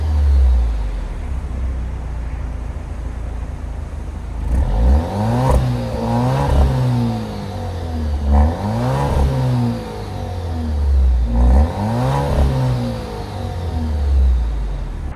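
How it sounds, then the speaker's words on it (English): A 2024 Alfa Romeo Stelvio Competizione with an inline four-cylinder engine revs hard three times over a steady idle, each rise and fall in pitch loud and close, with no talking. "let's take a listen to what this inline 4-cylinder has to say when it comes to the exhaust note"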